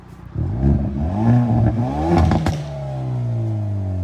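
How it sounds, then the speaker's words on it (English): A 2019 Hyundai Veloster N revs through its active sport exhaust, close and loud, with the engine pitch sweeping up and down several times before it settles into a steady, throaty drone. No one talks. "Yeah, that's the active sport exhaust."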